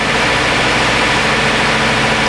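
A 2017 Subaru Outback engine idles steadily while warming up, a constant close mechanical hum and vibration with no change in pace.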